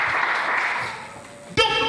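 A church congregation applauds and cheers for the Lord in a steady, broad wash of clapping for over a second, then a voice begins speaking over it.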